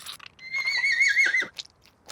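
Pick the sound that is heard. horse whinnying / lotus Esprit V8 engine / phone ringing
horse whinnying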